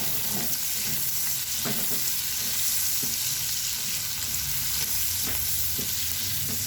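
Sliced white onion with garlic sizzles steadily in a hot pan, a continuous close crackle and hiss with occasional stirring scrapes and no talking.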